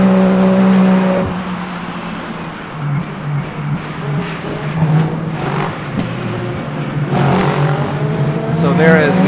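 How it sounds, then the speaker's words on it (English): A race car engine in Le Mans Ultimate lifts off ahead of a chicane during a 24 Hours of Le Mans sim race, its steady loud drone dropping in pitch and then building again, while a commentator talks over it. "as we came into the chicane, you heard the lift at the 200-meter mark"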